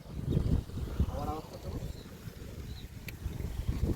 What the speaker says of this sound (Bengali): হাওয়ারও সাউন্ড আসছে।